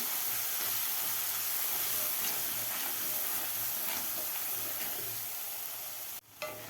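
Ground masala paste sautéing in a pan for a mixed-vegetable khichdi, a steady close sizzle and hiss with faint stirring scrapes, cutting off abruptly near the end.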